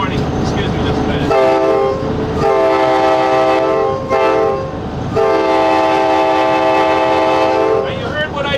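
Long, loud MBTA train horn blasts sound close by at a road crossing, several sustained tones separated by short breaks over a steady rumbling background.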